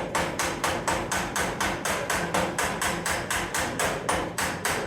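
Steady hammer blows shape a piece of metal, about three or four strikes per second in an even rhythm, sharp and close with no talk.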